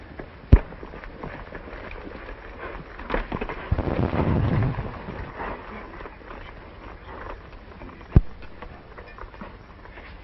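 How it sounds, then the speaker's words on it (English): A single sharp gunshot from a revolver in a western film rings out early, with a second crack near the end, over low outdoor rumble and a brief louder scuffle in the middle. "the gun should go bang."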